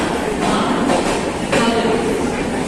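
Kiul-Malda intercity express (13410) pulling out of Bhagalpur station in India, a steady, loud rumble of rolling wheels and carriage noise with faint clatter throughout, recorded from on board.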